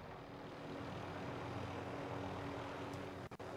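Helicopter in the video game Call of Duty Warzone Pacific, a steady, loud rotor and engine drone filling the whole stretch, with a couple of sharp clicks near the end.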